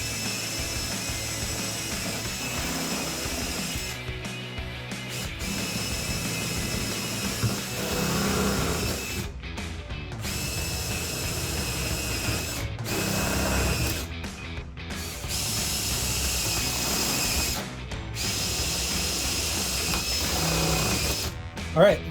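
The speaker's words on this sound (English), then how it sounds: "All right, that's all the top holes drilled." A step drill bit bores holes in the trunk lid of a 2010-2014 Mustang for a rear spoiler install, with repeated bursts of whining drill motor broken by short pauses, close and loud. A voice speaks between bursts.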